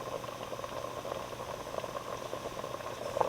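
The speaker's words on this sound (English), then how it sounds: "It's coming to a boil now." Water in a pot on high heat comes to a boil for a one-pot pumpkin pasta, giving a steady bubbling, rumbling hiss that stays even and moderately loud, with no talking.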